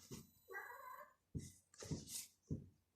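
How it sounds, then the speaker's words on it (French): A cat meows several times in short, close, moderately quiet cries, with a longer drawn-out yowl in between and brief pauses separating each call. "C'est mon chat."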